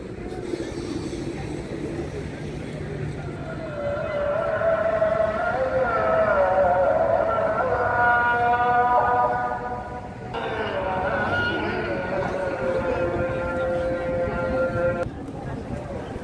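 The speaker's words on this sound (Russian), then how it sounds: "Трамвай." A tram rumbles past close by in Taksim Square, Istanbul, a loud rolling drone with high metallic squeals and whines rising over it, continuous for the whole stretch.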